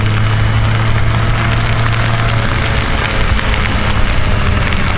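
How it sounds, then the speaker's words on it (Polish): Heavy downpour drumming on a motorcyclist's helmet during a ride, a loud dense continuous spatter over a steady low engine tone. "To nie jest deszcz,"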